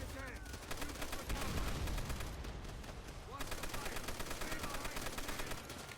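Gunfire rattles steadily through a Call of Duty World at War battle, dense bursts of rifle and machine-gun shots layered over booming low rumble, with a voice speaking over parts of the fight.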